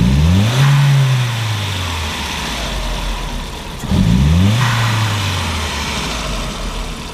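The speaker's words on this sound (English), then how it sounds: "Let's get a couple snap throttles" 1999 Volkswagen Passat 1.8T with a faulty MAF sensor and rough idle, two sharp snap-throttle revs rising and falling back to a loud, close idle, no voices.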